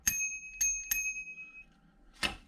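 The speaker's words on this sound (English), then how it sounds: "There's a bell, ding dong." A bicycle bell for a 2022 Mongoose California Special BMX rings in three quick bright dings with a ringing tail, then one more ding after a short gap, close and clear.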